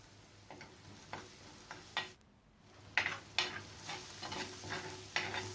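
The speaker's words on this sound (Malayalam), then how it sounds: "ഈ മുളകും കൂടെ ഈ എണ്ണയിൽ കിടന്ന് നന്നായിട്ടൊന്ന് മൂത്ത് വരണം." Crushed chilli fries in oil for chena mezhukkupuratti, giving a soft continuous sizzle broken by regular scraping stir strokes of a spoon against the pan, with one brief quiet pause.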